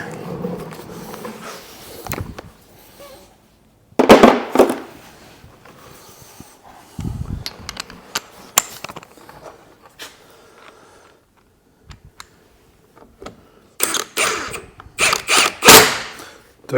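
Short bursts from an impact gun driving wheel bolts on a Vauxhall Meriva A VXR during ball joint replacement, sounding as a few separate loud spurts with clinks and handling noise in between.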